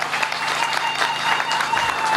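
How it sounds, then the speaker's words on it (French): Steady applause from a crowd, a dense patter of clapping that holds at an even level throughout. "Veuillez applaudir s'il vous plaît."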